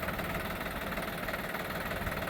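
A Sonalika tractor engine runs steadily outdoors, a loud, dense, unbroken diesel drone with a constant knocking pulse throughout, close by and with no speech.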